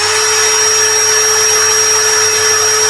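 An Ecosen power drill runs steadily at full speed for the whole stretch, a loud, even motor whine with no pauses and no voices.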